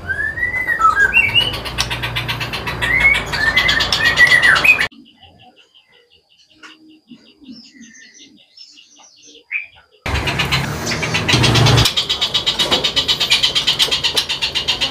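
Loud, varied whistling phrases from a young white-rumped shama at a bird shop ring out close by, broken by a near-silent gap before busy chirping resumes.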